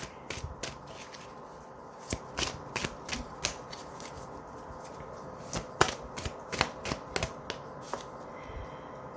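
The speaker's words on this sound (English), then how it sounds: "I do want to pull one more card for this." Tarot cards shuffled by hand for a reading, giving a series of crisp riffling snaps and slaps in irregular bursts, close and fairly quiet with no talk.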